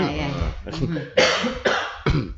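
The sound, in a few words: cough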